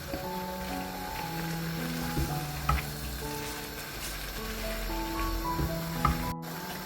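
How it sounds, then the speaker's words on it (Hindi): Chicken stirred in a pan with tomatoes and homemade masala, a steady sizzle under scraping stirs and a few sharp clinks of the spoon, with a faint tonal hum running throughout and a brief cut near the end. "अब हम इस चिकन को मिक्स करेंगे टमाटरों के साथ, अपने बनाए हुए मसाले के साथ"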